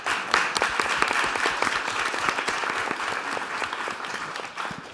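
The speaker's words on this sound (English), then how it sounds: "I think this deserves another round of applause" A conference audience applauds after a panel speaker's story, steady dense clapping from a crowd filling the room, sustained at even loudness and tapering slightly toward the end, with no speech over it.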